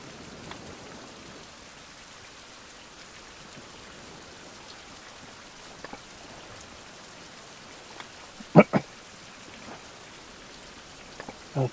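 Rain in the survival video game Survival: Fountain of Youth falls as a soft, steady patter, with a few louder drops or taps standing out near the end.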